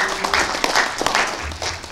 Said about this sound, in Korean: 다시 한번 큰 박수 좀 쳐주시기 바랍니다